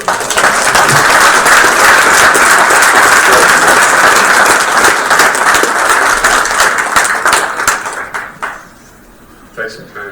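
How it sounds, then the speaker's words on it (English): Applause from a crowd at a school board meeting, loud and sustained for several seconds before thinning into scattered claps, with voices underneath. "let's give him a big round of applause"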